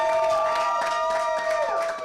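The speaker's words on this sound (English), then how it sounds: "please, a standing ovation and a great round of applause for Justice" A crowd at a spoken word competition grand finale cheers and applauds a prize winner during a standing ovation, with loud sustained cheering and clapping under a steady tonal hum.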